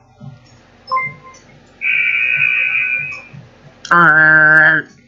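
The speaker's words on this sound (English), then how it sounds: "Sounds like a freaking basketball timer when the game ends." A basketball-timer-style buzzer ends a round in a Coolmath online puzzle game: a few short electronic tones, then a loud sustained buzzing horn near the end, with light clicks in between.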